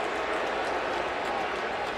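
A dense, steady roar from a packed stadium crowd at the 2015 Clemson vs South Carolina college football game, continuous and fairly loud with no single voice standing out.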